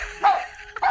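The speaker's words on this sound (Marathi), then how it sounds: "वरचा कुत्रा भुंकतोय" A dog barks twice in quick succession, fairly close, with faint background noise between the barks.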